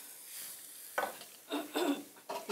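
Ground beef cooks in a pan with a low background sizzle and a few scraping stirs, heard close and fairly quiet with no speech.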